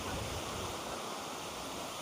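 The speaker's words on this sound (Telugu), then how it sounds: "ఇక్కడైతే వాటర్ అనేది పక్కన ఉంది కాబట్టి వాటర్ సౌండ్ అనేది ఎక్కువగా వినిపిస్తూ ఉండొచ్చు మీకైతే" The Kothapalli waterfall at night rushes in a steady, broadband roar of flowing water, close and continuous with no voices.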